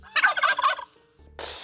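A turkey gobble sound effect: one loud rapid warbling burst of gobbles, a brief pause, then a harsh noisy blast.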